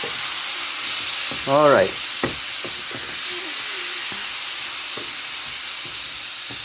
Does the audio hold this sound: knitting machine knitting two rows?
no